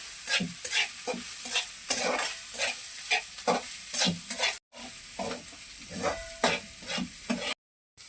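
Onion and garlic sauté in a pan with an uneven, close sizzle and repeated scraping stirs, pausing in two brief silent cuts.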